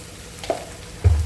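Onions with ginger garlic paste frying and being stirred in a pan for a dried fish curry, giving a soft steady sizzle with a couple of scraping stirs, the second louder and near.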